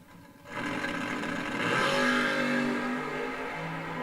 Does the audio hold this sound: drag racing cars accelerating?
yes